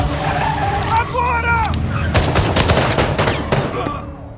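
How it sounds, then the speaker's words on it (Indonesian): A street chase in Rio with an ambulance: tyres skid and screech loudly, followed by a rapid series of sharp crashing impacts as cars collide, with voices briefly audible. "Sirene meraung, mobil saling tabrak"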